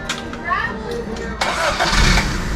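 A 1983 Toyota Corolla wagon engine cranks and catches partway through, its broadband roar rising suddenly and holding steady, with voices heard in the background.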